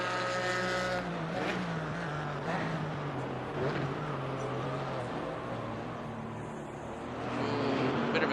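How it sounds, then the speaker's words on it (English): A GT4 race car engine in a sim racing game, lapping the Nurburgring, drones steadily and fairly loud throughout, its pitch rising and falling slightly with no voices over it. "So you can hear the car there. There's almost no engine power going through that one."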